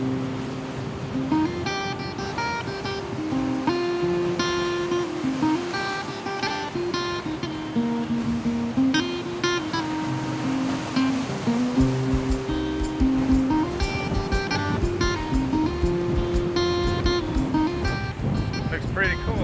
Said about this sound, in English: The waves are really crashing here.